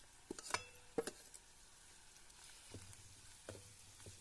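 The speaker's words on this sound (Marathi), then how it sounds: "खोबरा लसूण यांची आता फोडणी लगेच तयार होईल" Grated coconut and garlic crackle in a hot oil tempering, with a faint, quiet sizzle under a few sharp clinks of a utensil against the pan early on, then soft scraping stirs.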